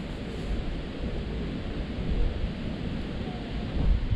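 Wind rushes steadily past an outdoor spot by a city-centre fishing bank, a broad, low buffeting roar that swells in gusts with no talk.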